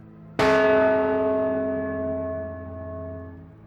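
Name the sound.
church bell ringing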